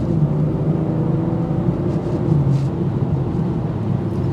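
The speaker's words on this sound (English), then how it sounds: "So you still get a nice throaty note out of it without the iconic sound." A 2023 BMW M340i's engine gives a steady, low throaty drone while driving, blended with road and cabin noise and no voices.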